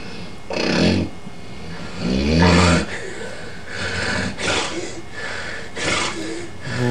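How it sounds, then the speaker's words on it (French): A sleeper breathes out with loud, rasping snores and snorts as breathing resumes after a sleep apnea pause. There are several uneven bursts, close by, with quieter gaps between them. "à la suite d'une apnée du sommeil, il y a une reprise respiratoire, souvent associée à des ronflements"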